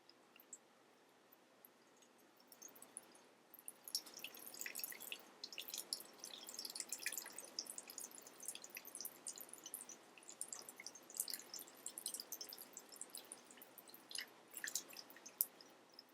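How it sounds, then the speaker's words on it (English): Water from a neti pot trickling through the nostrils, heard close and quiet as irregular drips and wet splashes that grow busier after a few seconds and continue in uneven bursts. "the water is going to flow through the top nostril and come out of the bottom nostril"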